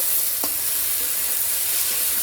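Cabbage for a Bengali cabbage ghonto sizzles steadily in a hot pan, with a single clear scrape of stirring early on.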